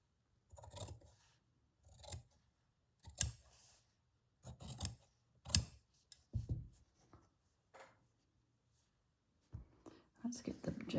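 Scissors make short snipping cuts through paper trimmed for a handmade journal, heard as separate quiet bursts spaced a second or two apart in an otherwise silent room.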